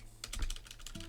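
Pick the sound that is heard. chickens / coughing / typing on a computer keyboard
typing on a computer keyboard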